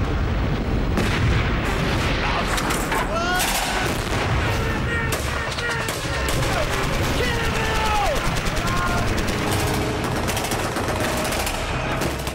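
Blank rounds crackle in a Second World War reenactment in the woods of Kent: dense, rapid bursts of rifle and machine-gun fire with sharp repeated cracks, loud and continuous, with shouting voices mixed in.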